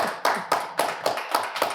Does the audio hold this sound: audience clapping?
yes